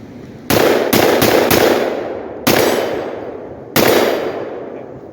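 Rifle shots from a .223 rifle fitted with a Blast Forward muzzle brake, fired outdoors: six sharp, loud reports, the first four in quick succession, then two spaced further apart, each trailing off in a long ringing decay.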